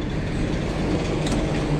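A Dubai Metro train pulls into the station, a steady loud rumble with a brief brighter hiss near the end and no voices over it.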